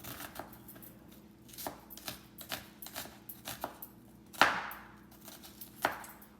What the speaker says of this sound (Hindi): इसको इस तरह छोटे छोटे पीस कर लूँगी।